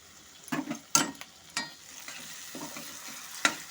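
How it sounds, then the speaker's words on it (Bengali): Spices and yogurt are stirred on low heat in a pan for a cauliflower curry, with soft sizzling and a few sharp spatula scrapes and clacks against the pan, heard close with no talking. "সেই জন্য আঁচটাকে লোতে দিয়ে সমস্ত মশলার সাথে দইটাকে ভালো মতো করে কষে নেব।"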